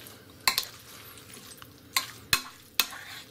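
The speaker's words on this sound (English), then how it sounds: "we're going to give it a good stir" A spoon stirs pasta salad with capers in a bowl, producing several sharp clinks and knocks spread unevenly over a soft, wet background.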